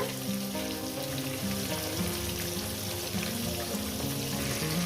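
Fish heads fry in hot oil in a pan, a dense, loud, continuous sizzle and crackle throughout, close up with no voices.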